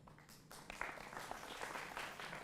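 A studio audience applauds to welcome guests on a televised debate show, a faint, distant patter of clapping that builds slightly and holds steady.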